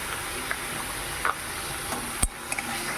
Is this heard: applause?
no